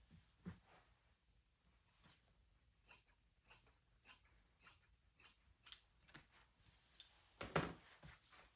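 Scissors snip through a piece of quilt batting in a series of short, quiet cuts, irregularly spaced and growing a little more frequent toward the end.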